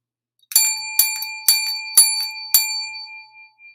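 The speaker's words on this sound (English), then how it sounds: "The bell is here waiting." A bright bicycle-style bell rings five times in a steady rhythm about half a second apart, loud and close, each ding ringing on briefly before fading, with no talk.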